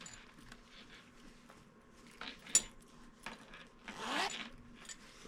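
Zipper on the outer pocket of a sewn crossbody purse, a few short quiet scrapes and zips followed by one longer, louder pull near the end, heard close up with no talking.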